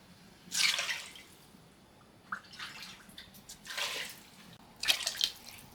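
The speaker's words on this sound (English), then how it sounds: "Then you're going to put the water." Water splashes and pours in short, uneven bursts into a soup pot, fairly quiet and close, with brief pauses between pours and no talking.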